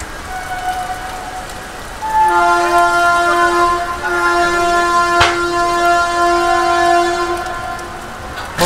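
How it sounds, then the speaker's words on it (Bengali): Kandari Express train pulling out of platform 21 at Howrah station in heavy rain, with a long sustained horn blast riding over steady rain noise and rumbling wheels, plus a sharp clank around the middle. "আমাদের ট্রেন প্রায় 1 ঘন্টা লেটে হাওড়া স্টেশনের 21 নম্বর প্ল্যাটফর্ম থেকে ছেড়ে বের হচ্ছে"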